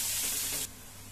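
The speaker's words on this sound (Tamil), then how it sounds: "கட் பண்ணி வச்சுருக்க ஒரு வெங்காயம் இதையும் சேர்த்து நல்லா வதக்கி வச்சுக்கலாம்" Chopped onion sautéing in a pan with chilli and cumin: a steady, loud sizzle that drops abruptly to a quieter frying hiss partway through, close by with no talk.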